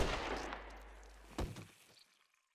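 A single gunshot cracks in the video game The Walking Dead: A New Frontier, a sharp loud report cutting through a fading low rumble, followed by a brief decaying tail and then silence.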